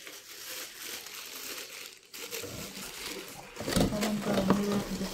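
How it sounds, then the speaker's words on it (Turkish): Crinkling of a plastic bag, rustling in bursts and growing louder toward the end, with people talking nearby. "Orada bir poşet daha var Mira."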